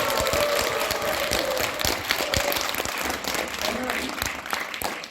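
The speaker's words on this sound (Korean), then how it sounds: "다시 한번 박수 한번 쳐볼까요?" At a year-end Buddhist ceremony and general meeting, an audience gives dense, sustained applause that stays loud and continuous for several seconds before easing slightly.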